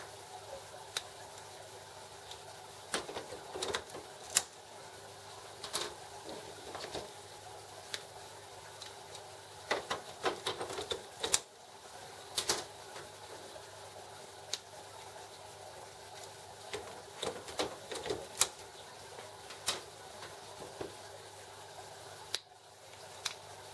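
A Canon IP7250 inkjet printer, set up for edible printing, runs through its setup, making irregular mechanical clicks and ticks over a faint steady hum, with quiet gaps between bursts.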